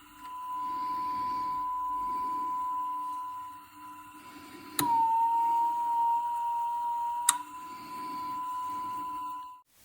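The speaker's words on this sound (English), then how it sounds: "Let's see what that action of changing the reel size switch does on a Studer B62 machine" A Studer B62 reel-to-reel tape machine from the 1960s plays a constant steady tone off a near-full 7-inch reel, the pitch dipping briefly as the reel size switch is flipped with sharp clicks.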